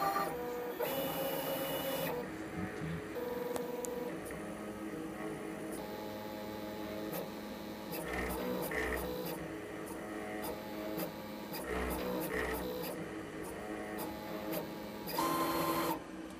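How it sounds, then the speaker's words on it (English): A Roland CAMM-1 CX-24 vinyl cutter doing a contour cut, its carriage motors whirring and buzzing steadily with shifting pitches and short stepping pulses, close and alone with no talking. "So the machine will start to cut from here,"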